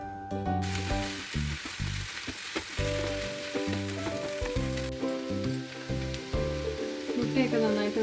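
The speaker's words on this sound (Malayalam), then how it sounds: "ഹൈ ഫ്ലെയിമിൽ വെച്ച് തന്നെ ഇളക്കി യോജിപ്പിക്കണം" Egg mixture sizzles in a pan on a high flame as it is stirred, a bright constant frying hiss with repeated scraping and clinking strokes and an intermittent low tonal hum beneath.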